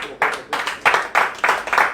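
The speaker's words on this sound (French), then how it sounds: "Par applaudissement." An audience claps at a live comedy show in a run of loud, evenly spaced bursts of clapping, about four per second, close and distinct.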